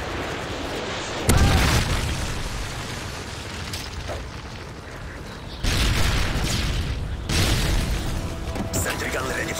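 Heavy booming blasts from a Predator missile strike in Call of Duty, two or three loud detonations with rumbling tails under game sounds, with brief voice callouts in between.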